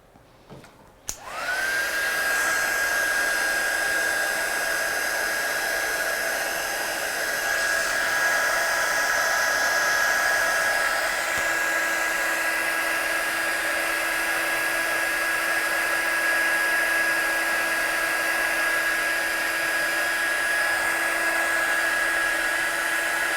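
A heat tool or hair dryer blows steadily on the back of a watercoloured Christmas card, a loud, even whirring hum with a high tonal whine that switches on after a click and runs unbroken.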